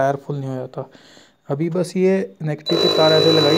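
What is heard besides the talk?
buzzer beeping on automatic tire inflator project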